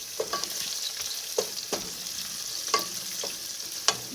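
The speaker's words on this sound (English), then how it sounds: "The leeks takes time to cook, so we need to saute them very well." Leeks and bay leaves cooking in a pan, a light background sizzle broken by several sharp scraping and clacking strokes of a utensil at irregular intervals.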